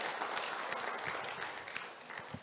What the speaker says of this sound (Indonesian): Tepuk tangan untuk kita semua para Civitas Akademika.